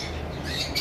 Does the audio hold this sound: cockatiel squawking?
yes